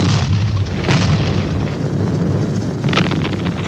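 Bombing in a Doctor Who scene: a steady roar of broadband explosion rumble runs throughout, with sharper blasts bursting out near the start and again near the end.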